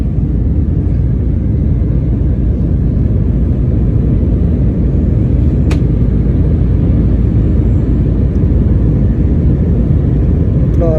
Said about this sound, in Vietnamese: Rồi máy bay đang lấy độ cao, khi đủ độ cao là sẽ ổn định.